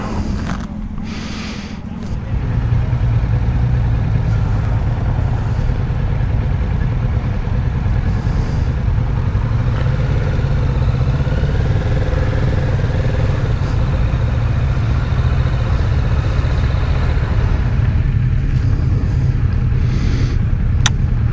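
A Kawasaki Z650RS motorcycle runs steadily on a demo ride, its engine a loud continuous mid-range drone under wind rush after a brief quieter start, with no speech.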